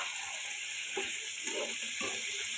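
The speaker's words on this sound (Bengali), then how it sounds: "এখন এগুলো আমি একটু ভাজতে থাকি" Potato cubes fry with onion and garlic in a pan, giving a dense, steady sizzle with a few soft stirring scrapes, close and fairly loud throughout.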